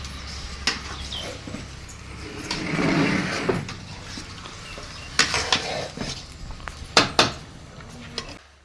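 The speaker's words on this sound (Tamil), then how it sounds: "அதை பார்த்திங்கன்னா இப்போ இந்த மசாலாவோடு போட்டு நல்லா மிக்ஸ் பண்ணிக்கலாம்." Chicken being stirred with masala in a large cooking pot, a spoon scraping and clanking against metal in irregular bursts, close by, with a loud rattling run of knocks near the end.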